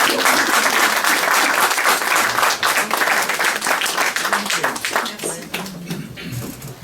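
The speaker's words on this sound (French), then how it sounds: "Oui, vous pouvez l'applaudir encore, hein?" Sustained applause from a show audience, many hands clapping loudly and evenly, thinning out toward the end as a voice begins to speak over it.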